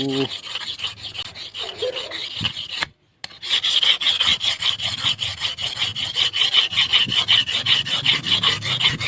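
Steady rhythmic scraping of a knife blade rubbed flat across a sharpening stone, close and continuous, with one brief pause midway.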